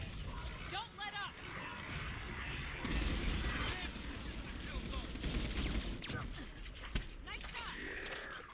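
Gunfire from the Mass Effect 3 video game: bursts of rapid shots and mechanical clatter roll on over several seconds, dense and fairly close, with game voices speaking underneath.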